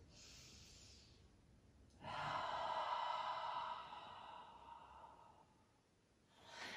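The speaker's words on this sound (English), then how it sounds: "Long inhales, long exhales." Slow, audible breathing during a gentle beginner yoga practice: a long, airy inhale then a sustained exhale, close and soft, with a quieter breath at the start and another rising at the end.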